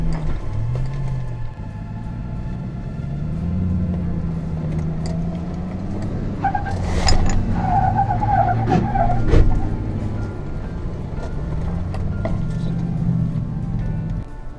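An off-road truck climbs a rock ledge step on Poison Spider Mesa in Moab, its engine revving in repeated low surges with brief scrapes and tire noises partway through, moderately close.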